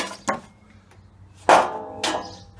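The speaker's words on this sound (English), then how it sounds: "Always works this hammer, always a good hammer this." A hammer strikes scrap dishwasher parts being broken down for metal, giving three sharp, close metallic knocks spaced unevenly over a faint background hum, with no talking.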